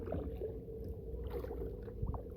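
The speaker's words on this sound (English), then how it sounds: "So we're just paddling now." A kayak paddles along the Waccamaw River with quiet, close water swishes and gentle dips of the paddle against a low background rumble.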